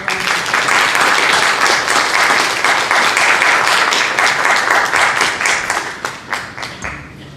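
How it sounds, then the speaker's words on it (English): An audience at a high school graduation ceremony bursts into loud, close applause that holds steady for several seconds, then tapers off into scattered claps. "please join me one more time in giving everyone a round of applause"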